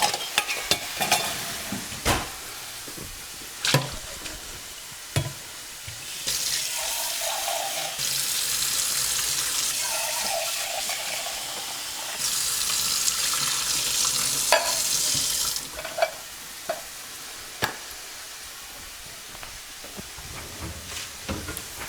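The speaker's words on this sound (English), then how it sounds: "this beef is still cooking away here" Beef browning in a pan for sloppy joes, giving a steady sizzle with intermittent stirring scrapes and clicks, surging louder in the middle stretches, with no talking.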